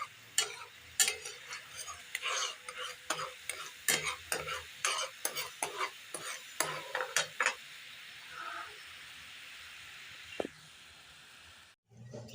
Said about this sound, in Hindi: जब तक ये अच्छी तरह गाढ़ी ना हो जाए हम इसी तरह मिक्स करते रहेंगे।